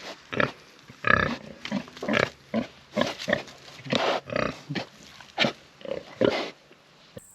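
Pigs in a pen grunting and oinking close by, a steady run of short rhythmic grunts and snorts one after another, loud and clear with no talk over them.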